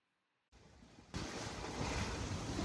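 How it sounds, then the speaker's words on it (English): Strong winds roar and waves splash over a sailboat deck while charging south below Madagascar, rising abruptly from near quiet into a loud, steady rush that grows louder still midway. "we were fully into the strong winds of this second system, charging straight south below Madagascar, with splashes onto the deck"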